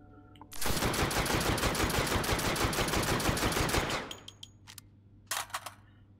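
Fragmentation rounds fire in a continuous loud rapid burst in the VR game Hot Dogs, Horseshoes & Hand Grenades, a dense roaring stream of shots lasting several seconds, then a few scattered sharp cracks and clicks.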